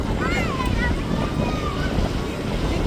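A boat engine drones steadily near the shore of a Lakshadweep island, blended with heavy wind buffeting the microphone, while a person talks throughout.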